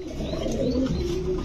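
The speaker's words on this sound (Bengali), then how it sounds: "এটা আবার এত বড় কবুতর" Pigeons at a pigeon farm coo in low, soft, rolling calls that overlap one another, nearby and steady, with no talking.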